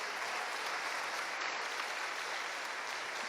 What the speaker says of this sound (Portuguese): Então aplauda o Senhor mais uma vez.